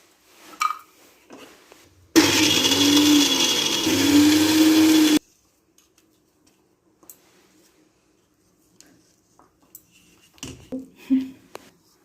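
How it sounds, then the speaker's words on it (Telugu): A mixer grinder whirs loudly as it grinds unpeeled garlic in its jar, running steadily for about three seconds between quieter kitchen clatter. "నెక్స్ట్ ఇదే జార్లో పొట్టు తీయని వెల్లుల్లిపాయలను వేసి ఒకసారి గ్రైండ్ చేసుకుంటాం"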